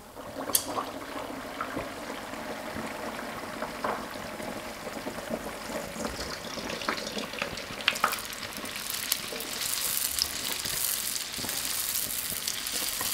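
Youtiao dough sticks frying in hot oil give a soft crackling bubble and sizzle, gentle at first and growing fuller and busier toward the end, with occasional light clicks and no talking.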